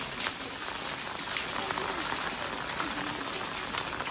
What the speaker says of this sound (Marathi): पाऊस दिवस आहे